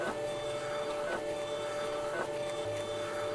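An iDPRT SP420 label printer feeds out labels in a steady, continuous mechanical whir, close and even, with a faint rhythmic ticking as the labels advance.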